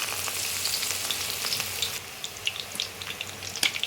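Batter-coated leaf chops sizzle and crackle steadily in hot oil, a dense close hiss with scattered sharp pops, quieting slightly midway, with no talking.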